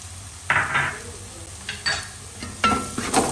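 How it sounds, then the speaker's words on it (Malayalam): A spoon stirs chicken masala seasoned with garam masala and salt in a pan, close up. Several separate scraping, sizzling strokes come in an uneven rhythm over a low background hum, with no talking. "നന്നായിട്ട് ഇളക്കി കൊടുക്കും."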